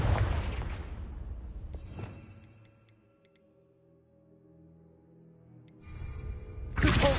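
A Confringo fire spell in Hogwarts Legacy goes off with a loud explosive burst, then a quieter ringing, magical tone lingers before a second blast erupts at the end.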